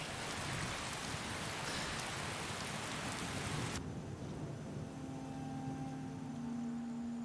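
Steady rain in the video game Skyrim falls as a dense, even hiss throughout, with a faint tonal musical drone entering partway and continuing under the downpour.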